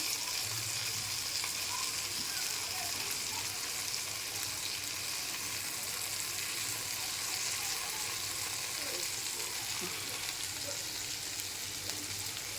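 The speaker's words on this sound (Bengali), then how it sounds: "আমি মাছ ভাজা ফিরিয়ে দিয়েছি" Hilsa fish fries in a pan, producing a soft, even sizzle that carries on steadily at low volume with no talking.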